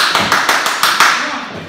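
A pro wrestler clapping for himself in the wrestling video game Stride Pro Wrestling: Old School 2020, a quick run of about six crisp claps in steady rhythm, close and loud.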